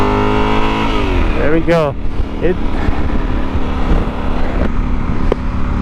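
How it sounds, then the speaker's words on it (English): Yamaha Super Tenere motorcycle engine revving loudly nearby, a rising throttle blip early on over a steady idle rumble, with a person speaking briefly. "the bike finally sounds like how it feels."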